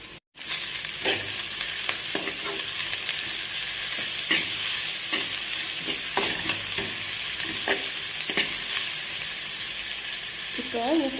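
Sliced onions fry with garlic in a pan for egg fried rice, a steady loud sizzle broken by repeated scraping stir strokes at irregular intervals, heard up close with no talking.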